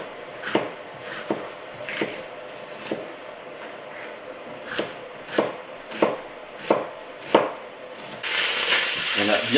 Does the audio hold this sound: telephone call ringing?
no